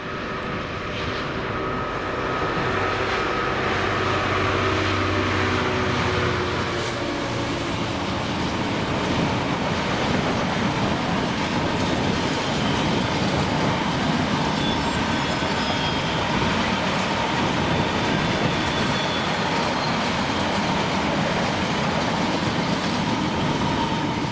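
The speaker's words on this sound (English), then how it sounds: "Dalzell to Teesyard empty steel train with 66181" An empty steel freight train hauled by a Class 66 locomotive, 66181, rumbles past nearby in Scotland, a steady broad roar of wagons and wheels lasting throughout with no voices.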